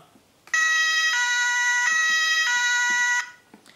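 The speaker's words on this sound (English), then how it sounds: "that's right, a siren" A loud electronic siren from a Märklin 36793 toy police locomotive blares steadily for about three seconds, stepping between two alternating tones, then cuts off abruptly.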